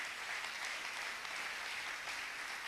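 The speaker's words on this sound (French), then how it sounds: "Est-ce qu'on peut acclamer le Seigneur?" A church congregation applauds to praise the Lord, a steady, even wash of many hands clapping together with no pauses, moderately quiet and unbroken.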